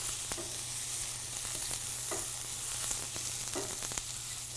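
Mushrooms sizzle in a hot pan, a steady close hiss of frying broken by a few light scrapes and clicks as they are stirred.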